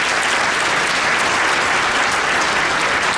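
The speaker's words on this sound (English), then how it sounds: "let's give her a round of applause." Steady, dense applause from a large audience at a nursing awards ceremony, loud and continuous throughout with no pauses.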